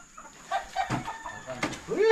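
Chickens bought at a game farm cluck and crow nearby. A rooster's call comes through clearly at the end, over soft background sounds and faint voices.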